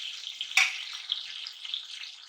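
Onions fry in hot ghee in a pot, a bright hissing sizzle that flares sharply for a moment near the start and then settles into a steady crackle, close and alone.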